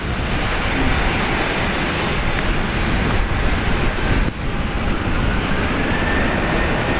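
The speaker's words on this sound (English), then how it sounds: "Velocity 1388, runway 19 left, clear for takeoff" A Velocity airliner departing from runway 19 left at Brisbane Airport, its engines giving a loud, steady roar that fills the whole stretch without a break and with no voices.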